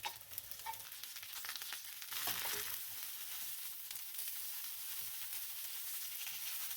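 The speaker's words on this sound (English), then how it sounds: "Now sear them in an oiled skillet over medium-high heat to get some color on them." Vegetables searing in an oiled skillet over medium-high heat, a continuous bright sizzle that swells briefly as food is moved, steady and close with no talk.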